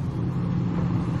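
A heavy truck's engine rumbles steadily at a dam breach where trucks are being driven in to fill the gap, a dense, continuous low drone close by with no voices over it.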